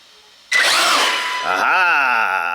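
An Axial RYFT RBX10 RC rock bouncer, upgraded for more power, whines up loud and close at half throttle, with a rising electric motor pitch that dips and climbs again after a quiet start.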